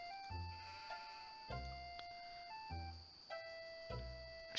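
Sheep bleating in the video game Harvester, a series of four short, rough, wavering bleats spaced about a second apart, fairly faint and with no talk over them.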